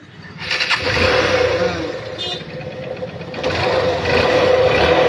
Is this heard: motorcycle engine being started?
yes